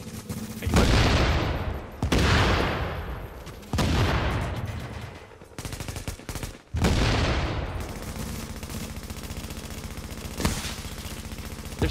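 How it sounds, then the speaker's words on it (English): Heavy sniper fire in a video game arrives as a string of loud, booming shots, each ringing out and decaying over a second or two, spaced irregularly with brief gaps between. "They're sniping us. They're shooting the other side."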